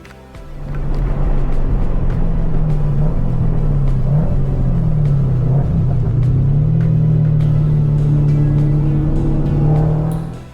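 A Toyota GR86 engine roars hard and steady for several seconds, its pitch surging up and down as the throttle is pushed, loud and close.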